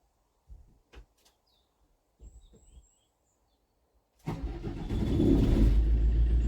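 A camper van engine cranks with the ignition key and catches at about four seconds, settling into a loud, steady idle close by, after a few quiet clicks and knocks and faint birdsong outdoors.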